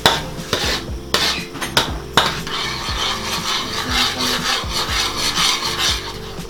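Wooden spoon scraping and stirring thick coconut latik around a pan, with repeated rubbing strokes and occasional sharper knocks against the pan, close and fairly loud, no talking.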